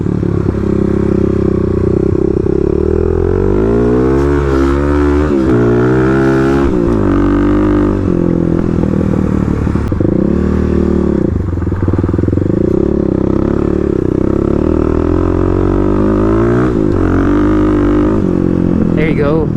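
A Kawasaki KLX351 dirt bike cornering off road, its engine revving and falling continuously up close, with gear clatter and speech mixed in over the loud motor.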